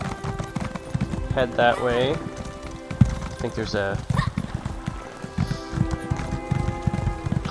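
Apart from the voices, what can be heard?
horse hooves galloping in The Elder Scrolls Online video game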